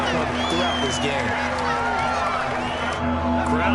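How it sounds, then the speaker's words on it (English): A stadium crowd at a football game gives off a sustained roar with whoops and whistles, steady and loud throughout, while a commentator speaks over it. "Crowd getting in it a bit already"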